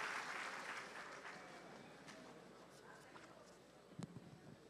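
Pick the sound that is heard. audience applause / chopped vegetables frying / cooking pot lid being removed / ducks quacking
audience applause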